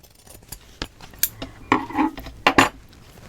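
Scissors cut a piece of paper for a handmade mini album, giving several sharp close snips and clicks spaced irregularly, with no talking.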